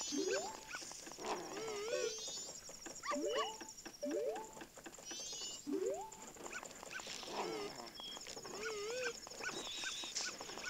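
Dog barking in the video game Zelda Majora's Mask 3D: short, repeated synthetic yips and whimpers in an uneven rhythm, fairly faint, over a quiet game background without talk.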